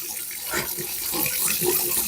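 Washed hair of a 70-year-old vintage American Character Sweet Sue doll is dunked in water, giving a continuous close sloshing and running-water wash.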